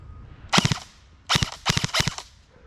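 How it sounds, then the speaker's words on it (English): An Arcturus NY-03 M4 airsoft rifle firing full auto: a short rattling burst, a pause, then two longer rapid bursts of sharp clicky shots, close and loud. "let's see some full auto action"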